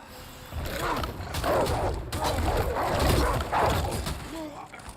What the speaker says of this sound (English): I forgot about all the dogs.